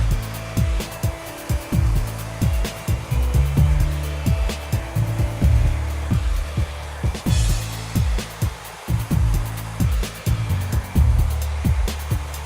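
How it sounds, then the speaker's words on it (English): High-speed, high-heat AC-motor ionic hair dryer blasting steadily while drying a woman's hair, loud and close, its whoosh broken by rhythmic brushing or airflow pulses through the whole stretch, with no talking. "we go ahead and bring the dryer using a high speed and high heat"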